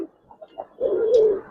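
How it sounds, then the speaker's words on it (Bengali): Racer and Giribaz coloring pigeons, some in molt, give a few soft low coos followed by a longer, louder throaty coo close by, with no talking. "কবুতর দেখেন ভাই"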